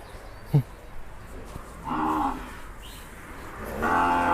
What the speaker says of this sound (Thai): นี่ครับมาใหม่ๆเลยครับแบบนี้เป็นวัวลูกอีสานนะครับ